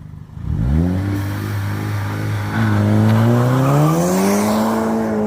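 A car engine revs hard and accelerates in an attempted burnout, its loud roar climbing steadily in pitch over several seconds with no voices.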